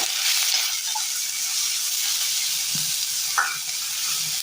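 Cloves, a small piece of cinnamon and crushed cardamom frying in a pan for a Kerala recipe, an even close hiss of hot oil with a couple of faint stirring clicks, no talking.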